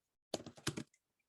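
A brief, quiet burst of typing on a computer keyboard, several close key clicks in quick succession followed by silence.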